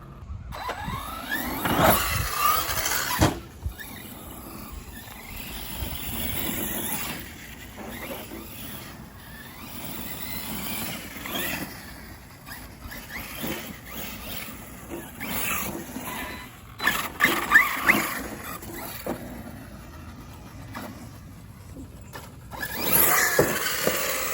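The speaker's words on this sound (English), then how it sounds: "I love the sound these cars make in slow motion" An ARRMA Notorious RC car played back in slow motion gives deep, drawn-out whooshing and mechanical whirring that swells and fades in several bursts, with quieter stretches between them.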